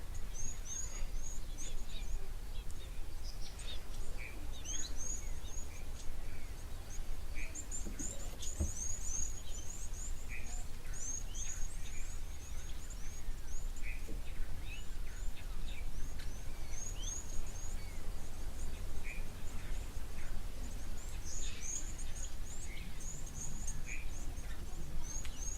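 Birds chattering from inside thorny bush at a waterhole, faint scattered chirps and twitters over a steady outdoor hiss.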